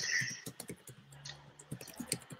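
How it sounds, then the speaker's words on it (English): Typing on a computer keyboard, quick irregular clicks and taps in short bursts, close and fairly quiet, with a faint brief tone in the background. "Yeah, it's me typing."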